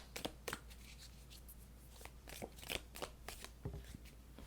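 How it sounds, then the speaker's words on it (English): A large deck of oracle cards being shuffled by hand, a run of quick papery riffles and snaps in irregular bursts, close and fairly quiet, with no talking. "These cards are kind of hard to shuffle."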